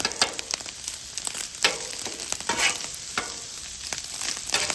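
Vegetables sizzle on a hot hibachi griddle with a drizzle of sesame oil while a spatula scrapes and tosses them in quick, irregular strokes, steady frying hiss underneath, close and clear.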